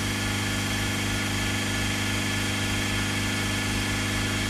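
A Mercedes GL350 3.0 V6 diesel with a soot-clogged, defective particulate filter runs with a steady, continuous engine drone and low hum, close and constant throughout with no talk.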